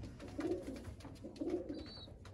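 Pigeons coo softly in two rounded, repeated bursts, close and low, with a faint chirp near the end.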